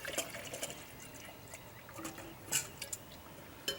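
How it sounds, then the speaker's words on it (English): Water poured into a wide cooking pot used with a pot lifter, giving soft splashing and dripping with a few louder clinks and splashes, close and fairly quiet, with no talking. "Let me put some water in this."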